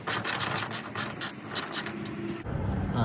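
A ratchet clicks rapidly in close, bright bursts as it backs out grille bolts on a Dodge Demon build, settling into steadier mechanical rattling near the end.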